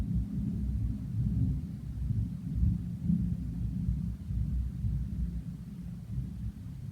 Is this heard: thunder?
yes